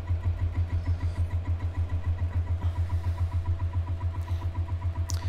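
A simple beginner pulse motor runs with a light bulb load, giving a fast, steady, even pulsing hum up close, with a faint click near the end.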